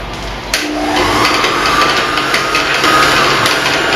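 An electric mixer beats honey cake batter with brown sugar and milk, a loud close steady whir with slight shifts in pitch as the beaters work through the mixture.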